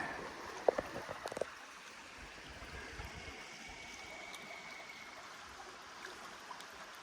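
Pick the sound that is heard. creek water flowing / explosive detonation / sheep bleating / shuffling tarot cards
creek water flowing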